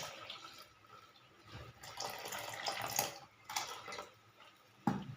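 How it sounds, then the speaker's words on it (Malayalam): Tamarind water pours and splashes in short bursts into a pot of Kerala-style pomfret curry with ground coconut, with faint clinks of utensils between pours, quiet and close. "ഇനി പുളിവെള്ളം ഒഴിക്കാം."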